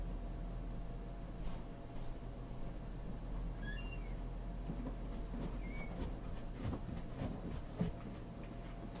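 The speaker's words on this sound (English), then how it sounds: "wonder if you can see my little kitty." A pet cat gives a few short, faint meows a couple of seconds apart, heard indoors over a steady low household hum with no one talking.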